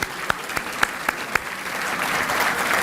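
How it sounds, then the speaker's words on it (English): A roomful of about 500 people applauds at the City of Suffolk, Virginia State of the City event: a few sharp separate claps build quickly into steady, dense clapping that fills the room. "give yourself a round of applause"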